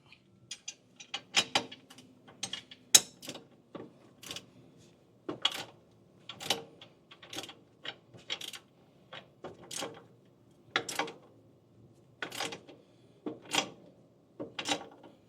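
A hand ratchet snugs hardware on a window sash balance box in a series of sharp, close clicks. They come in small clusters at an irregular pace, separated by quiet gaps.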